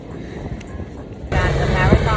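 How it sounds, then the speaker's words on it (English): A helicopter flies overhead on a beach day, a low rumbling drone that suddenly swells louder partway through, with people talking over it. "Helicopter."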